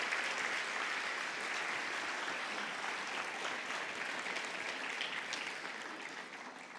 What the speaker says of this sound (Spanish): Denle un aplauso al Señor, bien grande,